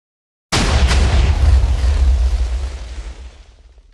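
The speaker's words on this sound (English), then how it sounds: "There goes the TNT." A massive TNT cannon detonates in Minecraft, a sudden loud blast after half a second of silence that rolls into a deep rumbling boom and slowly fades over a few seconds.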